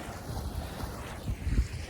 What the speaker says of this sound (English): So we got some water rushing here